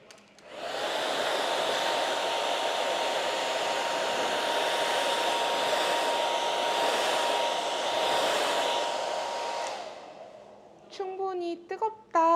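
A hair dryer blows steadily and loudly into a man's hair while it is styled at home, a continuous airy roar lasting about nine seconds before it cuts off and a voice begins speaking.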